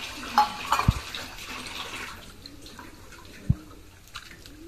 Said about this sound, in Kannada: ಸೊ ನಾವು ಸ್ವಲ್ಪ ನೀರು ಹಾಕಿ ಅದನ್ನು ಕ್ಲೀನ್ ಮಾಡಿ ಆಮೇಲೆ ಅದನ್ನು ಇದರಲ್ಲಿ ಒಗ್ಗರಣೆಗೆ ಸೇರಿಸಿದ್ರೆ ಆಯಿತು